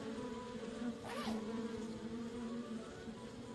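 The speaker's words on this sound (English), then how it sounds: "The bees won't let me get close enough." Bees buzzing in the video game Kelvin and the Infamous Machine, a steady insect drone holding close and even throughout over a low game ambience.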